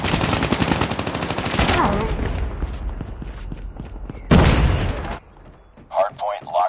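Dense video-game gunfire rattles continuously, with a frag grenade blast bursting loud midway through the firefight before brief shouted callouts from in-game voices.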